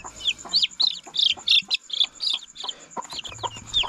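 Newly hatched chicks peep in rapid, high, repeated chirps close by, mixed with a few soft clucks and low murmurs from the mother hen, with no talking.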